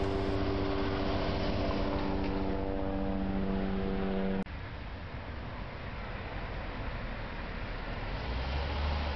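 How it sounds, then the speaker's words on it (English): Car speeding along a dark neighborhood street in Los Angeles, a steady loud engine and road roar with a harmonic whine that cuts off midway, then continuing broadband traffic noise. "We're forced to walk in the streets along with these speeding cars."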